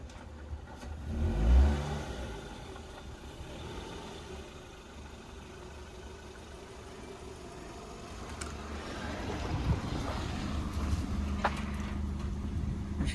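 A Ford Fiesta Zetec, freshly fitted with a new clutch, drives back up the road toward the listener, its engine rumbling steadily and swelling louder as it approaches, with a brief thump early on.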